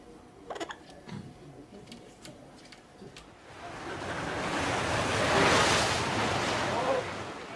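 Atlantic surf surging into Penny Pool on the Cornish coast, beginning with faint ticking and scattered clicks before a broad roar of crashing sea builds and swells loudly through the second half.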